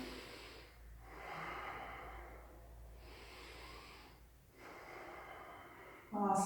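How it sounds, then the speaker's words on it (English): Slow, deep breaths during a yoga pose, each long inhale and exhale rising and falling in steady cycles, close and soft, with a brief louder sound at the very end. "Let's do 2 breaths here"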